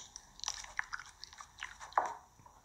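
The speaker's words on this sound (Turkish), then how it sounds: "Vıcık vıcık böyle çatır çatır ses çıkıyor." Close crunchy chewing and biting of food, with irregular crisp crackles and one louder crunch near the end, heard alone without talk.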